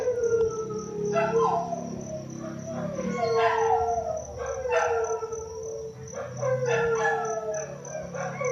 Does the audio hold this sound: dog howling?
yes